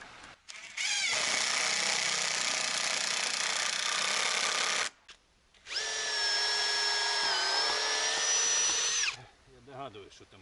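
A power screwdriver drives old, used self-tapping screws during construction work: two loud whirring bursts of about four seconds each, separated by a short pause, the second with a rising, straining whine.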